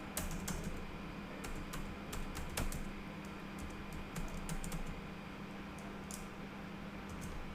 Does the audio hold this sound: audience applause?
no